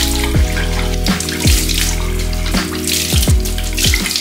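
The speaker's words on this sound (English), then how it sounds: "I'm gonna wash my face." Running tap water splashes steadily at a bathroom sink as someone rinses their face during a skincare routine, with repeated louder splashes as hands bring water up to the face; no talking.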